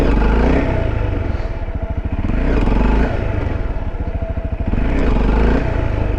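A Yamaha XT dirt motorcycle revs hard in repeated surges, its engine climbing and dropping in loud bursts as the bike lifts into a wheelie, close and continuous with some clattering.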